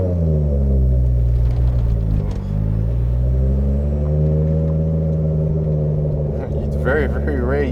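A high-horsepower Toyota Supra accelerates hard on a mountain road, its engine a loud, close, rising roar with deep rumble, and a brief shift dip before revving on.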